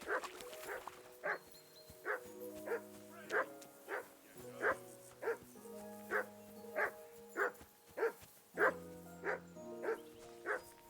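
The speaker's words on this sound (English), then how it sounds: "I assume you can hear that damn dog of yours barking." A dog in the video game Kingdom Come: Deliverance 2 barks repeatedly in an even rhythm, about a dozen sharp woofs over a layered musical score, fairly close and clear.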